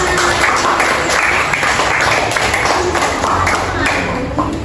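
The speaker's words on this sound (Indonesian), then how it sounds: "Oke, tepuk tangan kita semua." Applause from a classroom audience during a micro-teaching practice lesson, steady clapping sustained throughout at close range, mixed with a voice talking.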